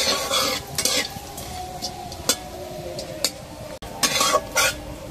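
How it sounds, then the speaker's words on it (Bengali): Dried red chillies and nigella seeds frying in oil as a spatula stirs them, giving a bright, close crackling sizzle broken by repeated metallic scrapes and clacks against the pan. "ভালো করে নাড়বো।"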